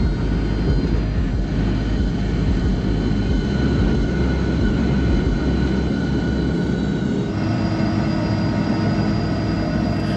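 A QantasLink Fokker 100 jet airliner flying from Kalgoorlie to Perth, heard from inside the cabin as a loud, constant engine roar and airflow rumble with steady whining tones, dropping a little in pitch partway through.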